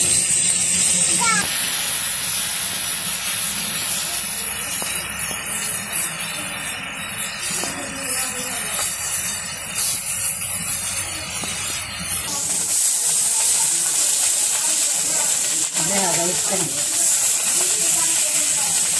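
Kalibaus fish frying in a pan over a village cooking fire makes a loud, steady hiss throughout, with voices, including a child's, talking nearby.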